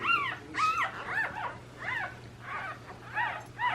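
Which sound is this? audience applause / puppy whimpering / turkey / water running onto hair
puppy whimpering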